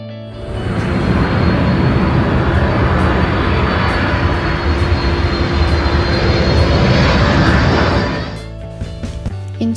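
A loud, close aircraft engine roar at Hong Kong Airport, a dense sustained rumble lasting about eight seconds before cutting down to quieter background noise.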